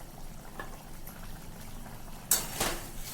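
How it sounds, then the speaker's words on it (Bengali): Water bubbles quietly in a pan for a fish and eggplant curry, a soft low simmer that is joined near the end by a brighter burst of bubbling or pouring. "জলটা ফুটে উঠেছে"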